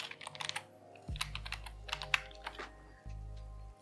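Password keystrokes tapped out on a computer keyboard during wallet setup, a fast run of close, crisp clicks over a low steady hum, with brief pauses between bursts.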